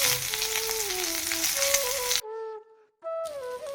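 Onions and chilies hit hot oil for a Bodo-style smoked pork dish with dried jute leaves, and they sizzle loudly and steadily. A high whistling tone sits over the sizzle, then the sound briefly cuts out and returns.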